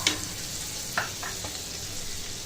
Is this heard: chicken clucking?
no